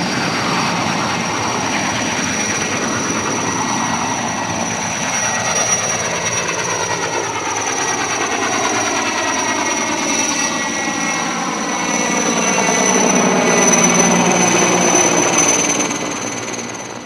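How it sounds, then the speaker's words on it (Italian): A Sikorsky S-64 helicopter starts its engine and spins up its rotors after a completed mission. The turbine roar is loud, close and continuous, with pitch slowly shifting and swelling near the end. "adesso è il tempo di accendere il motore, scaldare i rotori dell'S64 e ritornare a casa"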